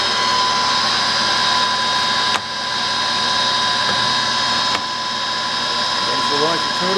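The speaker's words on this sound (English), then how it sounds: "There's your longitudinal feed." A Clausing 600 series 11-inch by 30-inch metal lathe runs under power longitudinal feed, giving off a steady mechanical whine and hum, broken by two brief clicks, with a faint voice near the end.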